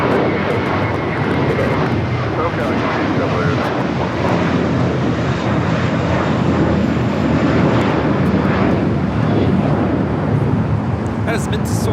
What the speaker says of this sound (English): That is meant to soar, taking off to JFK, JetBlue 924. It's an A321.